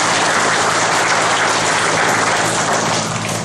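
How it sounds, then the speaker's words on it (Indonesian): Loud, sustained applause from a large crowd at a military district command gathering in Banyumas, Indonesia, clapping for the army and police; a thick, continuous roar of hands that stays strong throughout with no voices on top. "tepuk tangan dulu buat TNI Polri"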